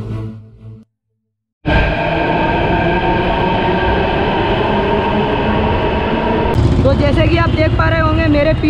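A metro train at a station roars in loud and close after a brief silence, a steady rumble with tonal whine, then rising squeals and clatter as it keeps moving.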